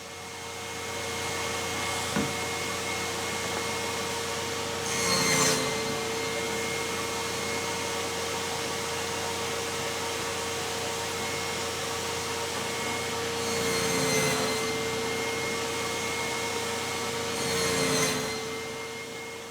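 Saw cutting test pieces in a scrap of plywood: a steady whirring machine drone with several louder swells as the blade bites into the wood, close and without speech.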